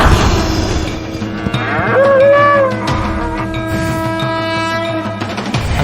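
A single cow moos loudly and close, a long drawn-out bellow with rising and falling pitch, used as a sound effect in a Tamil mystery thriller audio story, over a faint background bed.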